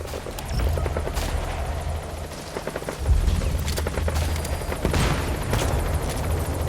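Steady support helicopter rotor thump in Metal Gear Solid V, with bursts of gunfire and booming impacts mixed in, loud and continuous throughout.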